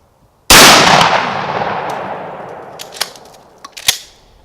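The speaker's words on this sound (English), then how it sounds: "So I'm going to take a shot out of here, see how it feels." A Remington 870 shotgun with a Kicklite stock fires one 3-inch number 5 shell, a single loud, close blast that rings out and decays over several seconds, followed by a few faint clicks and handling knocks.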